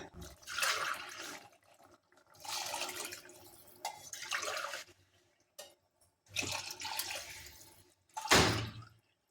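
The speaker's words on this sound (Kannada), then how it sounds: "ಮೂರು ಕಪ್ ವಾಟ್ರನ್ನ ಹಾಕ್ಕೊಳ್ತಾ ಇದ್ದೀನಿ" Water poured from a cup into a pot for vegetable pulav, arriving in several separate splashing pours with short pauses between them, close by and fairly quiet.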